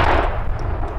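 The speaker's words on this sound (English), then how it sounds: "Firing the RPG-7 in" An RPG-7 rocket launcher fires outdoors, and a loud, dense roaring blast fills the whole second with no break.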